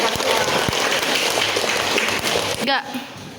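A classroom of senior high school students breaks into applause, a thick continuous patter of many hands clapping, loud and near, ending abruptly as a voice cuts in briefly.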